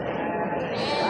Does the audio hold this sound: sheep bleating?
yes